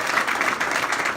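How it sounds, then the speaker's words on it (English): Brief audience applause at a Maryland congressional primary campaign event, a steady wash of many hands clapping at moderate volume with no break. "So let's have a round of applause for them."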